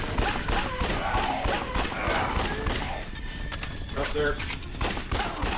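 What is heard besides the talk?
gunfire in the video game Yakuza: Dead Souls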